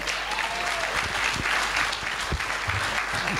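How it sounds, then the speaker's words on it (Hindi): An audience claps at a corporate gathering, a dense, steady wash of applause that carries on for the whole stretch without letting up, while a few low thuds and murmurs sit underneath it. "अरे अंग्रेजों हिंदुस्तानियों जैसी तालियां बजाओ ना।"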